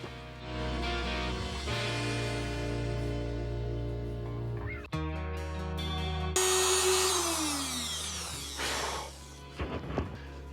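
A power router cuts a pickup cavity into a Yamaha Attitude guitar body, giving a loud, continuous motor whine that shifts in pitch as the bit bites into the wood, running steadily throughout with no talk.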